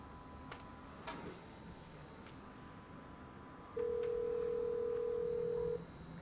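A telephone handset gives a few short faint clicks and beeps, followed by a single steady tone lasting about two seconds, all quiet and without speech.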